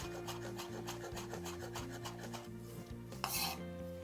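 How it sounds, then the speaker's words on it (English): A knife rocks rhythmically through fresh herbs on a cutting board, quick repeated scraping chops close up, ending with a brief louder sweep, no voices. "I like to just give it a little quarter turn and give it one more run through with the knife"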